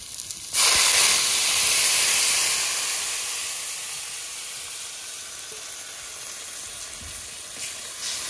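Water poured into a pan of tomato-fried spice masala for a katla fish kalia sets off a sudden loud sizzling hiss, which rises sharply and then settles into a steady, slowly fading bubbling sizzle with no voices.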